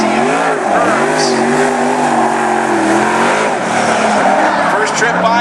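A number 28 race car on an F5 chassis runs at a racetrack during national qualifying, its engine a loud sustained roar with rising and falling pitch, heard alongside an announcer talking over the public address.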